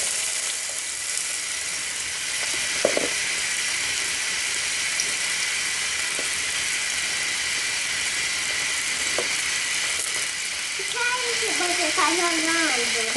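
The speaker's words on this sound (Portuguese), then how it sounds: "Então eu vou começar refogando o alho." Garlic and onion sautéing in a pan: a steady, loud hissing sizzle throughout, with a few scrapes from stirring, and a voice talking briefly toward the end.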